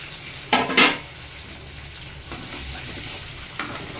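Onions and tempering spices (mustard seeds, cumin, curry leaves, dried chillies, garlic) sizzling in hot oil for a tomato chutney, a steady low fry broken by a couple of sharp spoon-against-pan scrapes and stirs, no voices.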